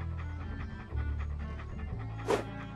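A dog pants steadily in the video game Monkey Island 2, quick rhythmic breaths repeating over a low musical background, with no speech.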